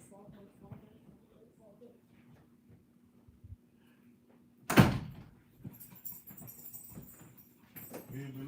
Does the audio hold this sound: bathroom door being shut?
yes